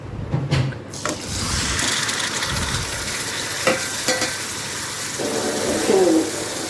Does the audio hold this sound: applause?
no